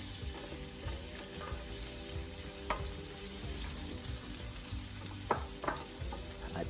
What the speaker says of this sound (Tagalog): Isutay natin ang 1 whole minced garlic